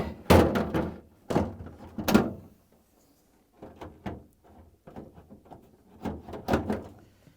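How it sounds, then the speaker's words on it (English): Lower freezer drawer being fitted into a GE refrigerator: sharp plastic clacks and thuds as the drawer is pushed and seated, in clustered bursts with short quiet gaps, close and fairly loud. "now I'm going to install this freezer drawer"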